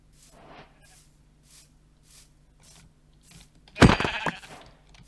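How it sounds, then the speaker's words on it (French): A sheep in the Minecraft video game gives a short bleat, faint repeated tones before it, then a louder burst of crunchy game noise near the end. "Mouton."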